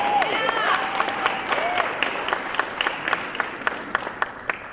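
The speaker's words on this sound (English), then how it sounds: "That's a round of applause." Applause from the audience at an awards ceremony begins under a voice that is speaking, then thins into scattered, separate claps that fade out over several seconds.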